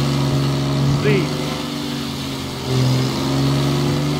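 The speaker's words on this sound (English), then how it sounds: "a car which doesn't handle right. It makes a lot of noise." A car engine in Mafia: Definitive Edition, driving a flooded rainy street, hums at a steady drone with a brief rising whine partway through, while a person talks over it.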